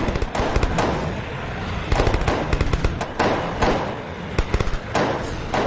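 Rapid bursts of gunfire aimed at zombies in a film, dense crackling volleys with short pauses, loud and close throughout, no talk.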